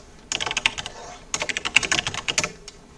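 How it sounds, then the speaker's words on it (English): Rapid bursts of typing on a computer keyboard as game results are entered, two clusters of quick close clacks separated by a short pause, clear and alone with no voices. "So I'm just gonna be typing these results in my locker room."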